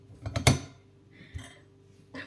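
Pots and vessels being washed in a home kitchen, with a few clattering metallic knocks up front, then a brief scrape and a later clink, fairly close and without talk.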